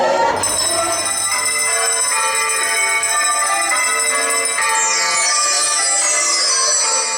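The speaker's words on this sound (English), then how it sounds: "that bell is the exact replica of Bow Bell" A bell presented as an exact replica of Bow Bell rings during a Dick Whittington and his Cat dress run, a bright sustained clang with shimmering overtones that carries steadily through the whole stretch, loud and close, with no talking over it.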